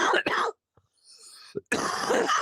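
A sharp, loud cough bursts out, followed by a brief pause with faint noises, then another harsh cough right up close.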